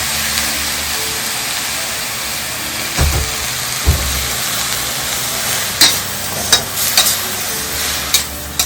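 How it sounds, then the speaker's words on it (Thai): June beetles are dry-roasted and stirred in a pan, giving a close rattling scrape and soft sizzle with several sharp knocks of the utensil against the pan. "ทำการคั่วนะครับ"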